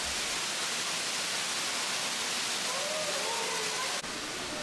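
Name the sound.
golden waterfall inside Gwangmyeong Cave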